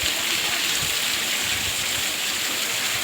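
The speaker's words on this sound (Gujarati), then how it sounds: "અત્યારે વરસાદ જોરદાર પડે છે." Heavy monsoon rain pouring down outdoors onto a market street, a dense continuous hiss of falling water with a steady close rush and no pauses.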